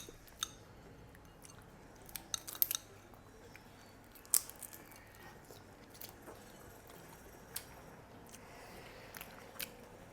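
Faint crunchy bites and chewing of steamed garlic prawns, a handful of sharp crackles spaced irregularly over quiet background, close to the mic.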